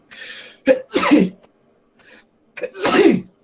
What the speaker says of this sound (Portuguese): É só um espirro, mais nada.